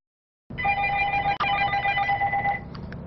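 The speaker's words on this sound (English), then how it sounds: "The phone has been ringing off the hook at Planet Nutrition" At a nutrition supplement store, a telephone begins ringing after a moment of silence, with a steady electronic trill that rings continuously for about two seconds before stopping, close and clear.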